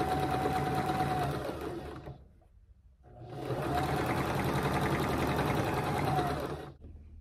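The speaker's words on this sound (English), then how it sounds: "So we're going to keep going by sewing these together." Close, loud bursts of a sewing machine stitching half-square triangle quilt pieces: one run of about two seconds, a brief quiet gap, then a longer steady run of roughly three and a half seconds.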